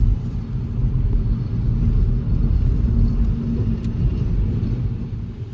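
An Audi A3 cruising on adaptive cruise control gives a steady, loud low road and engine rumble from inside the cabin, continuous throughout with no talk.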